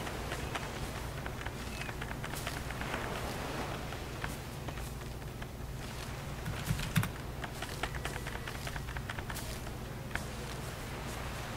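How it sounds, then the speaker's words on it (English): Computer keyboard keys pressed in a steady rapid clatter of typing during an ARK: Survival Evolved gaming session, close and fairly quiet, over a constant low background hum. "That's me pressing my keys on my keyboard."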